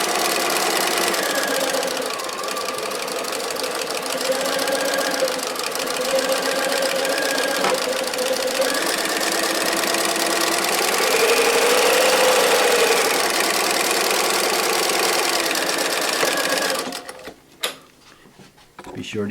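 A Bernina 1020 sewing machine stitches in a fast, steady whirring run for most of the stretch, with someone talking over it, then the motor stops and a few faint clicks follow near the end.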